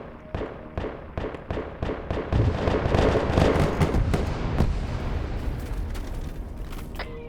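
Rapid gunfire and booming explosions from an Arma 3 Zeus operation, a fast run of sharp reports at the start merging into a dense, loud barrage of blasts and rumbling that continues throughout.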